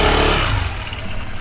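Motorcycle engines, a group of four bikes, rumble steadily with a low throaty idle and slight revving, loud and close throughout with no talk.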